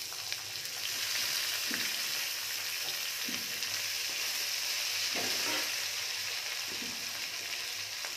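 Onions and green chilies fry in a pan for a tilapia fish curry, giving a steady close hiss and crackle of oil with occasional soft scrapes of stirring, no talking over it.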